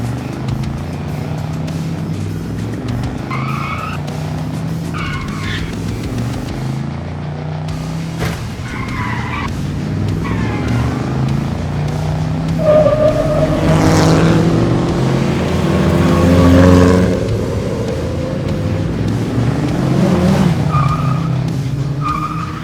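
Six Hot Wheels rally cars race around a track in the Grampian Mountains, tires skidding and engines revving in a loud, continuous rush that swells near the middle before easing, with no talk.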